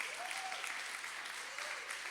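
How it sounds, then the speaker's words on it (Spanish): A short burst of congregation applause during a Spanish-language church sermon, dense and fairly faint, lasting about two seconds with a faint tone drifting over it. "Dale un aplauso fuerte a Él."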